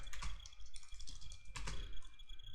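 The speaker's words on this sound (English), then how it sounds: "Now I can type some text." Keys on a computer keyboard clatter in short, irregular bursts of quick taps with brief pauses, close and fairly quiet, as text is typed into the Vim editor.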